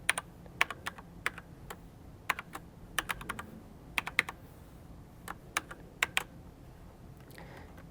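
A computer keyboard is typed on while a password is entered, a sparse series of quiet close clicks in irregular short runs with brief pauses between.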